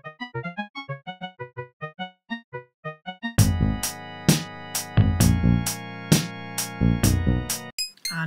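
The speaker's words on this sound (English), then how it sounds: "Now I'm going to do the synth." A bright, bouncy Mario Paint synth plays a quick staccato pattern alone, then repeats over heavy electronic drums and bass in a looping groove.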